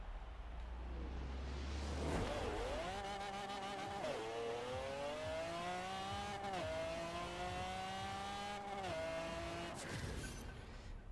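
A 1900-horsepower drag Mustang in the racing game Forza Horizon 4 launches and accelerates hard through manual gear changes, its loud engine rising in pitch with several dips between shifts, tire noise at the start.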